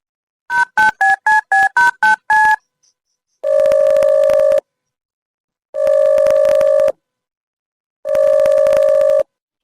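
A telephone keypad sends a quick run of eight touch-tone beeps, followed after a pause by three long, evenly spaced ringing tones, clear and alone.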